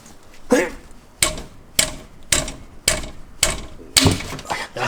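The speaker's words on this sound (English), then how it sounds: "Now I'm trying a torque wrench. This is really difficult to get off." A torque wrench works at a stubborn, tight part on a Kia Proceed GT during an oil change, giving a series of about seven sharp ratcheting clacks at a steady, even pace, close and loud.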